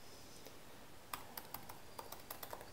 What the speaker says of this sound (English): type in the password raspberry.